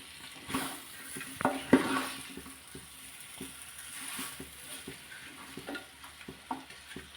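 Homemade pickle mixture being stirred in a pan, with a soft sizzle under intermittent scraping and clattering spoon strokes, close and moderately quiet, with no talking.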